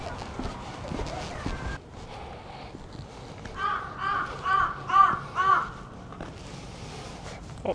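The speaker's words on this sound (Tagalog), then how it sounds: "Ingay ng mga uwak." Several crows caw in a row, fairly loud and nearby, harsh calls repeating in a steady rhythm over quiet outdoor background noise in Incheon Chinatown, South Korea.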